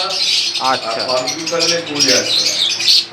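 Caged foreign birds in a bird shop in Howrah, a busy mix of chirps and squawks heard close, with someone talking over them throughout.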